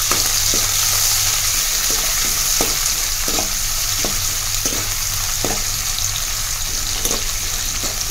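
Mustard seeds, green chillies and chana dal fry in a pan for rava idli, a loud continuous sizzle close up with regular scraping stirs and small pops running through it.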